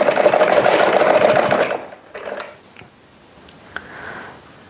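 A sewing machine runs fast, stitching fabric in a quarter- to half-inch seam with a loud, steady whirring buzz for under two seconds, then stops, leaving a few faint clicks and brief mechanical whirs nearby.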